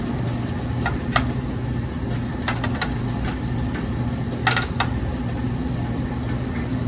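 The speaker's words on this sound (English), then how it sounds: "drop it right in the pan. Let it cook on both sides." French toast sizzles steadily in a metal pan as a constant frying hiss, with a few brief clinks and scrapes from a utensil breaking through now and then.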